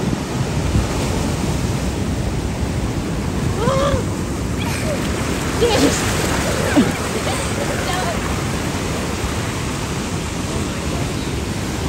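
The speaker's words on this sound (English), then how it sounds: "Napaka wild ng waves." Rough ocean surf at Bronte Beach, Sydney, roars steadily and loudly, with constant wash and wind noise filling the whole stretch.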